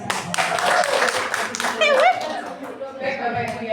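Applause from a gathered audience at the close of a formal event, a dense burst of clapping mixed with chatter and laughter, fading somewhat toward the end.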